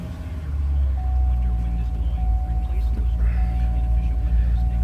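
A 2009 Chevrolet Corvette coupe engine fires up and settles into a steady idle, with a thin chime sounding intermittently over the low engine hum.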